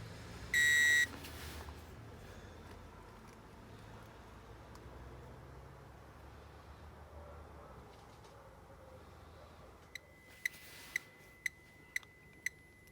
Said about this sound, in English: it started doing a very slow audible beep, and we've got the green neon on